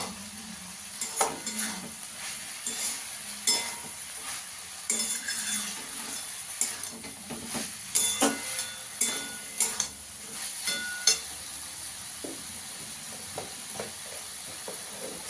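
Pre-fried paneer goes into a hot pan of simmering Bengali curry and gets stirred, with a soft sizzle under repeated scraping and clinks of a metal spoon against the pan, close and fairly loud.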